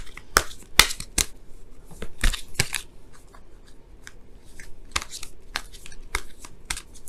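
Tarot cards are shuffled in a series of crisp, irregular riffles and flicks, close and fairly loud, separated by short quiet gaps.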